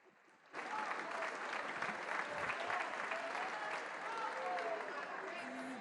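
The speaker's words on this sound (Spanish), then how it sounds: "Vamos a darle un aplauso al cumpleañero." Steady applause breaks out in a legislative chamber during an ordinary session, honouring a member on his 71st birthday; dense clapping starts abruptly and continues evenly, with faint voices talking underneath.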